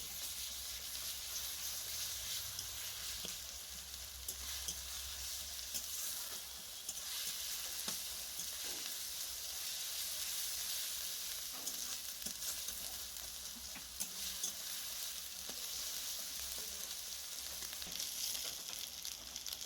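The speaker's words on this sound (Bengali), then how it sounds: "আদা রসুনটা হালকা ভাজা হয়ে গিয়েছে" Ginger garlic paste frying with onions in a pan, a dense, unbroken sizzle lasting the whole stretch with occasional stirring scrapes, close and steady with no one speaking.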